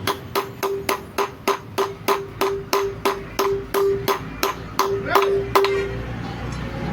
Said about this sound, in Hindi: इसलिए हथौड़ी से डायरेक्ट कर रहा है